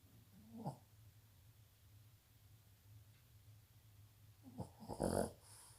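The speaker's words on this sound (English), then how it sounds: "My dogs are really snoozing here." Dogs asleep indoors, giving soft, faint snoring breaths over a low steady hum, with a couple of louder snorts and a brief rough burst near the end.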